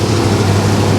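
A 1974 Chevy El Camino with a 327 V8 idles steadily and close, a continuous low rumble with no breaks, no speech, running fairly smoothly.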